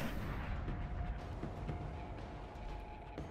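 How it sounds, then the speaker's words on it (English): Sniper rifle fire in the video game Destiny, during a daily heroic boss fight, heard as a dense, rumbling wash of booming shots and explosions with a few sharper cracks standing out, loud and continuous. "So we're just going to snipe these guys for a little bit."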